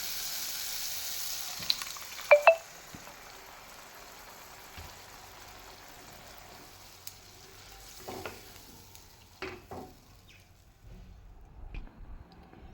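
Boiled chickpea dal tipped into frying spices and stirred, a few sharp clinks and scrapes early, then a low quiet sizzle with intermittent stirring scrapes, close and without talk.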